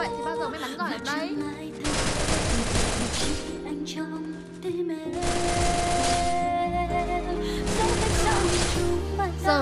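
Gunfire in the battle royale game Free Fire comes in rapid automatic bursts, loud and close, in several separate volleys mixed with game music and effects.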